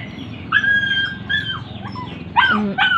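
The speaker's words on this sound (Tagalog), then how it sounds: "Ang aso iniwanan niyang papa kaya nag-ingay." A dog left behind by its owner whines and howls in drawn-out, rising and falling cries, close and fairly loud, with short pauses between calls.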